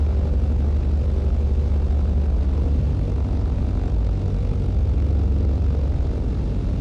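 Steady, loud propeller aircraft engine drone at takeoff power in Microsoft Flight Simulator 2020, a dense continuous roar with low rumbling throb that holds constant throughout, no talking.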